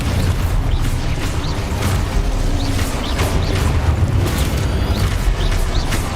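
Spell explosions from the Confringo and Expulso spells in the Hogwarts Legacy video game: loud, continuous booming blasts and crashes with repeated bursts over about six seconds, dense and forceful throughout.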